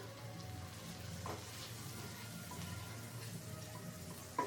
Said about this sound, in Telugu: బటర్ కరుగుతుందండి